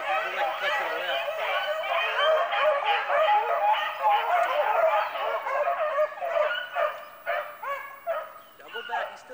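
A hunting dog gives excited, high-pitched yips and whimpering barks in the field, a dense run of calls that breaks into a few spaced barks near the end, fairly close, with people talking over it.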